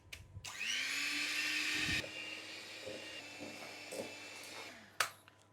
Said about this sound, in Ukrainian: І ще раз гарно фінальний раз замішуємо.